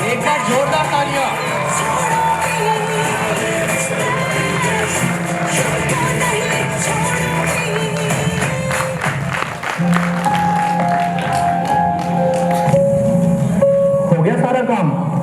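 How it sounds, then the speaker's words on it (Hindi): A youth festival audience applauding and cheering, dense continuous clapping with shouts and whoops while music plays and voices carry over the crowd. "एक बार जोरदार तालियां।"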